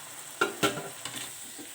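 Stirring chopped tomato into a sweet and sour chicken stir-fry with minced pork, with a few sharp utensil scrapes against the pan and soft frying hiss in between, close and fairly quiet.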